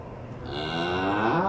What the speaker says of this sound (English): That's a big cow.